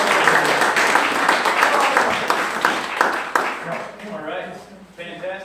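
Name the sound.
audience applause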